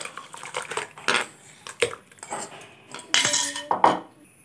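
A spoon clinks and scrapes against a pot while stirring passion fruit juice into boiled, cooled water for homemade wine, in a run of uneven, close metallic taps and knocks.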